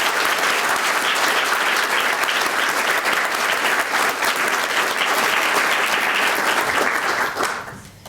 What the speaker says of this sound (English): the citation for Mr. Flowers and Mr. Wallam, but we should give them a round of applause.